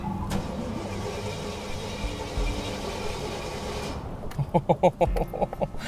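A blown Jaguar-engined rat rod, hot and reluctant to fire, gives a steady close mechanical rumble that breaks near the end into a run of loud, rhythmic chugging pulses as it tries to catch.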